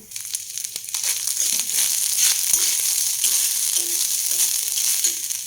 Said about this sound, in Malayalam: ഇതിലേക്ക് തേങ്ങ ചേർത്ത് കൊടുക്കാം. തേങ്ങ ഒരു ഇളം ബ്രൗണിഷ് ആകുന്നത് വരെ നമ്മളൊന്ന് വറുത്ത് കൊടുത്താൽ